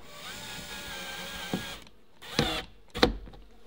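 A power driver winds down a screw near an observation beehive, a whirring motor with a steady tone that stops, followed by a few short sharp bursts close by.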